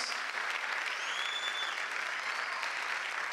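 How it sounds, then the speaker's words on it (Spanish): A church congregation claps loudly for the King of Kings during a worship service, a continuous dense roar of applause filling the space, with a faint sustained tone gliding above it midway. "Dale el aplauso más fuerte al Rey de Reyes."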